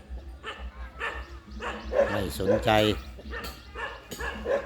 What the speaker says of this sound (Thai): ตอนนี้น้องหมาเริ่มมีเพื่อนมาเห่ากันเยอะแล้ว